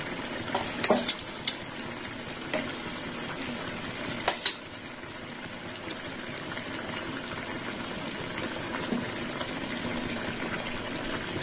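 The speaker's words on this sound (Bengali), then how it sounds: "বেগুনের সাথে এবার মাছের ঝোলটা ভালো করে ফুটবে।" Fish curry with eggplant simmering in a pan, a steady soft bubbling and hiss throughout with a few brief clinks or stirring knocks near the start, no voices.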